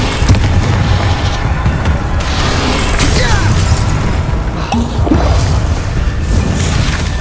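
In the video game Hogwarts Legacy, the Confringo fire spell sets off loud, booming explosions over a dense rumble. Crashes and whooshes come one after another through a chaotic combat scene.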